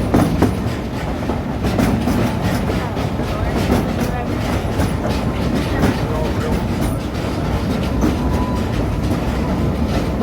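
Silver Dollar City's train rolls through the woods with a loud, continuous rumble and rhythmic clickety-clack of wheels on rail joints, steady throughout, with faint voices mixed in.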